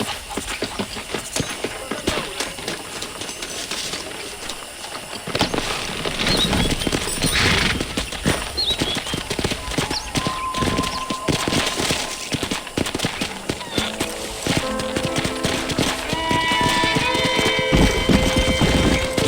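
Horse hooves clop in the Red Dead Redemption video game, rapid galloping beats rising and continuing over background game sounds and music.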